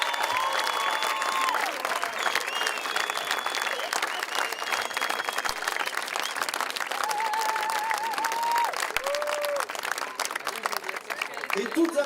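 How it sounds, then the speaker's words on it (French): A large crowd claps steadily and loudly at an outdoor arrival for the Passem relay race in Gascony, a continuous dense patter with voices and cheers mixed in throughout. "Donc, que vous pouvez applaudir tout le monde ici."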